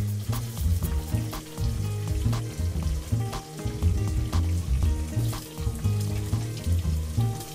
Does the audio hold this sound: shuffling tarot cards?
no